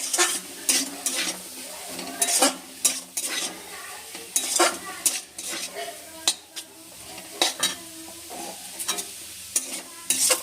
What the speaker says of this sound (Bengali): সব পনিরটা দিয়ে দিচ্ছি এটা আমি এখানে আড়াইশো মতন পনির নিয়েছি